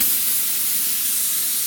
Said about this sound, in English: This new glue is working much better. Spraying out the gun real good.